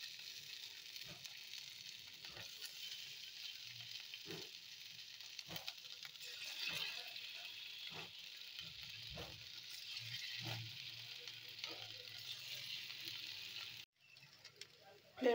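Sago pakora-style fritters sizzle faintly in hot white oil over a lowered flame, a quiet steady crackle broken by soft pops and light utensil taps.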